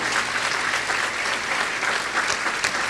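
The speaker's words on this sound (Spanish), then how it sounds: "Denle un aplauso si usted le apetece." A church congregation applauds during a Spanish-language service, a dense, steady wash of clapping that holds at an even, fairly loud level for its whole length with no voice on top.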